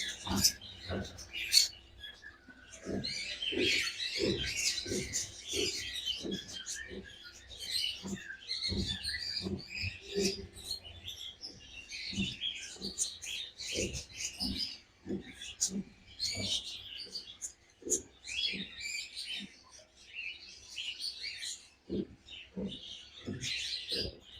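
Many cockatiel chicks chirp busily and continuously in high, overlapping calls while being hand-fed at a bird market, with soft low thumps and handling noises underneath throughout.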